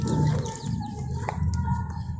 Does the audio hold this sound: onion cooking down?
no